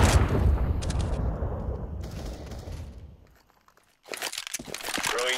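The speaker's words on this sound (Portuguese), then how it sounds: "Deploying flashbang." A game flashbang grenade is thrown during a round on the Cache map, heard as a crunchy burst of clatter and crackle that fades into near silence before a second sharp, bright burst bursts in.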